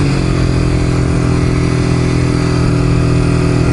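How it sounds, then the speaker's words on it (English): A motorcycle engine idles roughly and loudly with the clutch pulled in and no throttle, a steady close drone with a strong low throb that runs unchanged throughout. "I have the clutch in and it's still idling like that."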